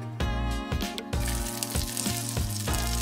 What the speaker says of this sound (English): when we are frying them in a pan